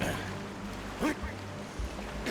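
Steady rushing of a waterfall in the Borderlands video game, a continuous fairly quiet wash of water with a few brief low thumps and a short chirp partway through.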